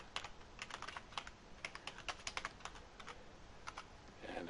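Rapid, uneven keystrokes on a computer keyboard sound close and quiet, coming in short clustered bursts with brief gaps between them.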